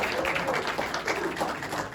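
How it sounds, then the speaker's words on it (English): A press-conference audience briefly applauds a Georgia Sports Hall of Fame inductee after a game, a short burst of brisk, fairly loud clapping with no one speaking. "Let's give a round of applause to Claude for Georgia Sports Hall of Fame."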